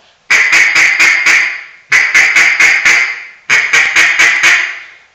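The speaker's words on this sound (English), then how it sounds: "all it is me whispering the word quack through the call" A duck call blown with a whispered quack to give a feed-call cadence: three loud, close bursts of rapid quacking, each about five quick notes, separated by short pauses.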